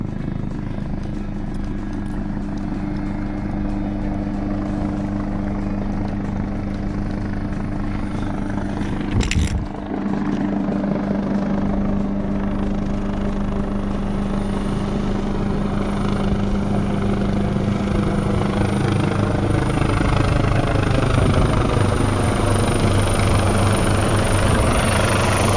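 An LA County Fire rescue helicopter flies overhead above a hiking trail in O'Melveny Park, California, its steady, loud rotor thump and engine drone continuing throughout, with one brief bump near the middle.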